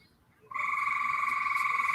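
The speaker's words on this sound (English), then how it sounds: "Yeah, that was a tree frog." A tree frog on a working farm near Gettysburg starts up suddenly and calls loudly and continuously in a fast, pulsing trill, close and unaccompanied.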